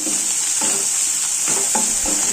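Egg podi curry with chopped coriander is stirred in a frying pan, a steady hiss of frying underneath several scraping strokes of a spoon, close and fairly loud, with no voices.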